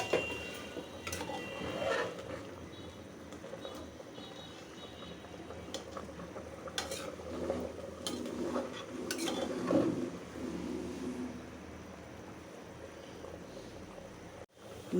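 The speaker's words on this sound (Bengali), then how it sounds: "নিহারিটা এখন বাগার দিয়ে ফেলবো।" Nihari gets its bagar, a tempering of fried onions in a pan, with steady sizzling and bubbling and occasional clinks and scrapes of a utensil against the pan; no one speaks.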